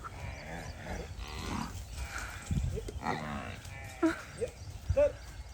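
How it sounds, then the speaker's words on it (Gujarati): Kankrej cattle on a farm in Gujarat, leaving their pen, let out a few short lowing moos near the end, over a soft bed of shuffling, outdoor noise and faint background voices. "ગાયો વાડામાંથી હવે બહાર નીકળી રહી છે"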